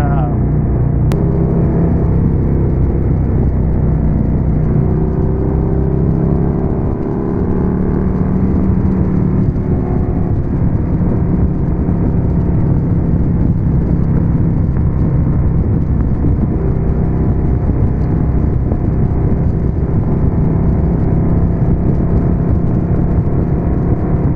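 A Harley Street Glide with Rinehart DBX45 exhaust pulls in third gear at around 4,000 RPM, a loud, steady, deep engine drone with wind rush from an onboard position, while a rider talks over it.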